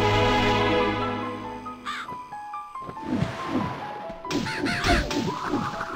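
Crows cawing in the video game MediEvil, several harsh repeated caws in quick bursts near and loud, mixed with game music and a few thuds and impacts.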